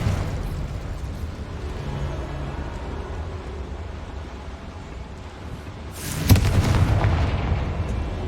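A Confringo spell explodes in Hogwarts Legacy on PS5, a single sudden loud blast about two-thirds of the way in that rumbles on after a stretch of low game ambience.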